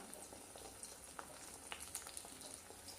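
Pumpkin flower fritters fry in hot oil in a home kitchen with a soft, steady sizzle. Small crackles and pops break through now and then. The sound is faint and close-up, with no voices.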